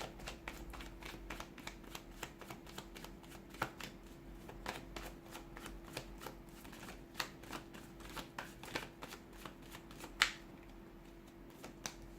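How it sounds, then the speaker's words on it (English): Tarot cards being shuffled in a quiet room: a quick series of soft riffling snaps and taps, fairly close, steady in rhythm. "give the cards a shuffle, and let's begin"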